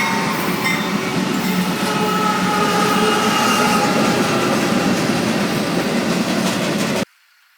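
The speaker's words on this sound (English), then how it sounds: "Now there's a train coming by" A train rolls past an intersection of South Flores and La Chapelle with a loud, continuous rumble and rail clatter, faint squeals above, before the sound cuts off abruptly at the end.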